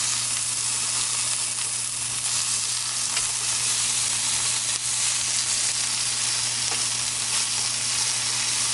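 Broccoli stems frying in a pan, a steady close sizzle with crackling pops throughout and a low background hum, no talking.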